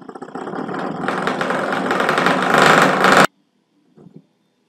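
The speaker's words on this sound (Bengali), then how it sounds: "অ্যান্টি ক্লকওয়াইজ মোটর ঘুরতেছে। এখন আমি মোটরের স্পিড বাড়াবো।" An electric motor spins anticlockwise and its whirring hum rises steadily in pitch and loudness as the speed is increased, then cuts off abruptly, followed by a brief faint noise.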